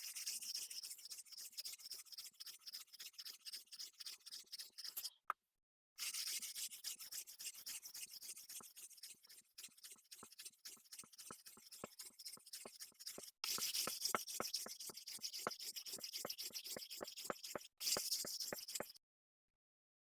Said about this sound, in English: you have to just keep sanding and sanding until you've come to the same level on the bit that's sunk